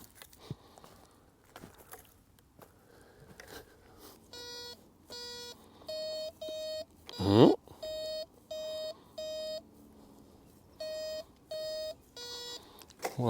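A cheap metal detector sweeping over buried spent cartridge cases gives repeated short electronic beep tones in regular bursts, with soft rustling and one louder scraping thump between them.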